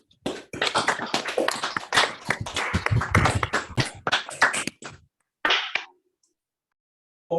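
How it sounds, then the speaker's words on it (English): A conference audience applauds the organizers, a dense burst of clapping that fades out after several seconds, followed by a few isolated claps. "thank the organizers for organizing this conference this year with a round of applause"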